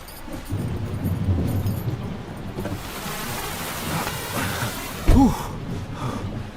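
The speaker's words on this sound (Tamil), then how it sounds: "செம்ம மழை." Heavy rain falling in a continuous wash, with a brief low thump partway through and no voices.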